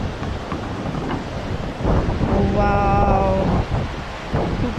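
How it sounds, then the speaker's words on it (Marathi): Wind buffets the microphone in strong continuous gusts at a hillside cave temple, with a brief exclamation and a faint tonal hum partway through. "खूप सुंदर व्ह्यू आहे आणि मस्त वारा सुटला"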